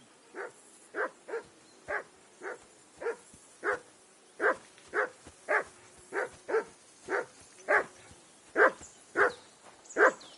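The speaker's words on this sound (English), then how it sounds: "Be quiet, you flea-bitten hound." A hound in the video game Kingdom Come Deliverance 2 barks over and over in an even, insistent rhythm, around twenty sharp barks at moderate distance with faint whining between them.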